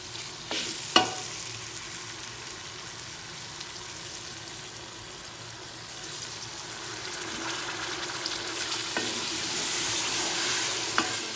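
Tomatoes and half a kilo of mutton cook in a pan while being stirred: a continuous sizzle with a sharp clatter near the start and brief scrapes later, no talking.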